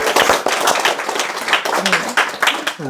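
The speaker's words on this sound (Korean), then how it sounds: "여러분 박수 한번 쳐주세요." An audience breaks into steady applause, many hands clapping in a dense patter, with a voice briefly audible over it.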